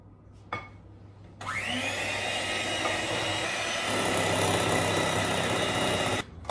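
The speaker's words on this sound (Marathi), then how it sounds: "सो आतां हांव एक एक एग घालतलें आनी बीट करतलें" Electric hand beater whirring steadily as eggs are beaten one at a time into cake batter, a continuous motor drone that starts after a short pause, grows slightly louder midway and cuts off near the end.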